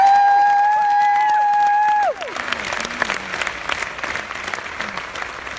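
A motivational talk audience bursts into sustained applause with some cheering, rising after a few seconds of sliding tonal sounds and carrying on steadily.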